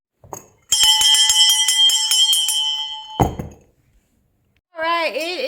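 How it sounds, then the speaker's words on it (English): A hand bell with a wooden handle rings loudly in a quick burst of strikes, then its bright tone fades after a thud, followed by a short stretch of quiet and then a person speaking. "This is going to be the OG bell. Excuse me. This is a good quality, too. Like, it got the wood handle."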